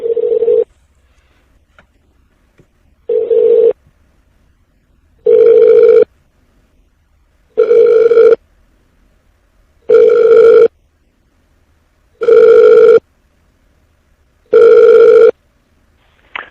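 A telephone line rings while a call is transferred to voicemail: six loud, evenly spaced electronic ringback tones, each about a second long, separated by near-silence.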